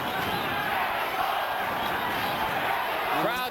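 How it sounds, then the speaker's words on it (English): A large arena crowd at the 1990 Julio Cesar Chavez vs Meldrick Taylor boxing match chants and roars in a continuous wall of sound, with a commentator's voice breaking in briefly at the end. "Crowd chanting Mexico, Mexico, trying to lift Chavez up."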